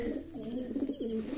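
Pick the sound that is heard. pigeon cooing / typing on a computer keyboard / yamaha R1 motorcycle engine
pigeon cooing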